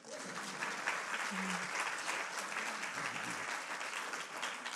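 Audience applause at a university lecture on American democracy: a steady, moderately quiet patter of many hands clapping from a seated crowd, continuous from start to finish.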